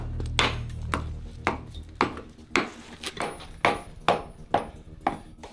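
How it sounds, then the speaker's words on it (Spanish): Sharp metallic hammer strikes knock excess steel off a train rail weld, about eight blows in a steady rhythm, loud and close with a faint lingering ring. "martillamos las partes excedentes."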